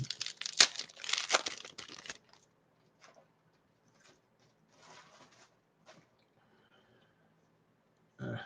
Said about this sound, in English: I'm just stuffing the wrappers in the empty box right now